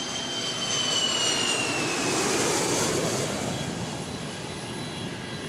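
Steady jet engine roar fills an airliner cabin in flight, a broad, even wash of noise with a faint high whine, continuous and close throughout with no talking.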